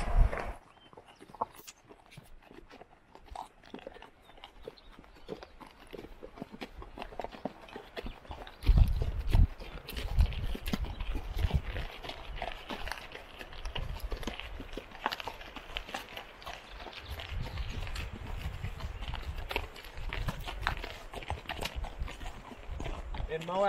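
Horses clip-clopping along a trail in Utah, their hooves thudding in a loose walking rhythm at close range while people talk throughout over the steady plodding.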